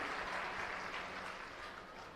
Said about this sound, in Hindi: तो जोरदार तालियों से मैडम का स्वागत, मैडम के इन प्रयासों के लिए।